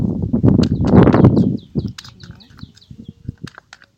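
A tarot deck is cut and shuffled by hand, a dense papery flurry for about a second and a half, then scattered light taps and flicks of cards.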